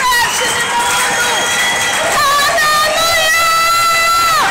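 A church congregation cheers loudly, with high trilling ululation and shouts over a dense, steady crowd roar throughout.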